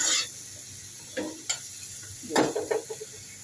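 Vegetable bhaji sizzles softly in a pan on the stove, with a few quick stirring scrapes and clinks of a spoon against the metal, close but quiet, no talking.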